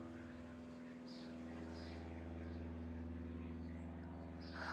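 An old, small propeller plane drones overhead: a faint, steady, low hum that holds evenly throughout, heard from a distance.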